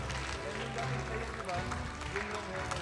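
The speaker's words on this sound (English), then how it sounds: "Everybody, let's give them a big round of applause." Crowd applause at the M5 World Championship esports knockout stage in a large arena, a steady wash of clapping and cheering from a big audience under an announcer's voice.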